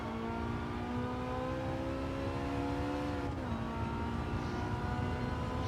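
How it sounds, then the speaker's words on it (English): Race car engine in Gran Turismo 7 during a long race at Kyoto, a steady loud drone holding pitch, dipping briefly as the car shifts or lifts, then settling back into a sustained whine with no talk. "Did I ever say to you guys that the engine noise in this is phenomenal?"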